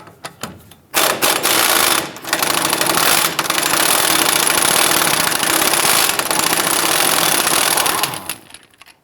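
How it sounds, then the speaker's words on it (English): A 30mm axle nut on a 2008-2013 Nissan Rogue's rear hub is loosened with an impact wrench, heard as a loud, sustained rattling hammer burst lasting several seconds, with brief pauses and stutters near the start. "Using your 30mm socket, we're going to loosen and remove this axle nut."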